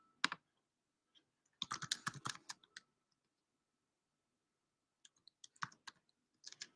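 Bursts of computer keyboard typing, quick clattering keystrokes in two or three short runs separated by pauses, close and fairly quiet, with no talking.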